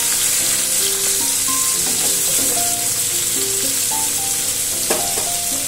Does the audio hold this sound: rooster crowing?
no